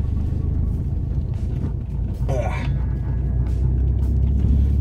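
Steady low droning of a car interior while driving, a constant engine and road rumble filling the background with a brief brighter swish partway through.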